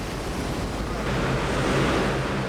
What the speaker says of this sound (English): At 155 miles per hour, the wind reaches the speed of a Category 5 hurricane.